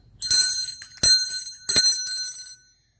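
A bright notification bell chimes as a sound effect, three or four quick metallic dings ringing out in sequence against silence.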